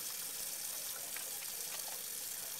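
Tap water runs steadily into a sink during handwashing in a microbiology laboratory, a close, even, hissing flow throughout with no talking.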